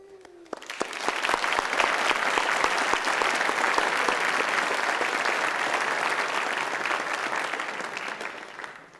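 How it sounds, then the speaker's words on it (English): A ceremony crowd at a technical school certification event breaks into loud, sustained applause, the clapping starting abruptly and continuing evenly for several seconds before tapering slightly. "give your parents and the staff a big round of applause"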